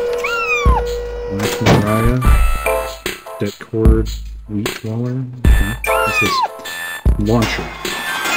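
Cats in the video game Quadrilateral Cowboy meow repeatedly, with several rising and falling meows close up and interleaved with short game effects and tones.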